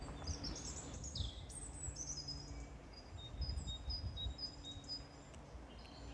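Several birds chirp and whistle outdoors, with high, thin calls scattered over a low background rumble, fairly faint and distant.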